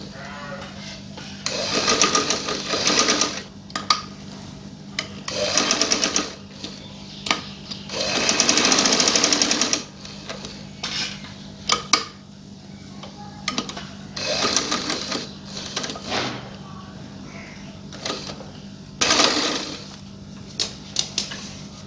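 A sewing machine stitches silk thread along a band strip, running in repeated bursts of rapid, loud mechanical chatter separated by short pauses.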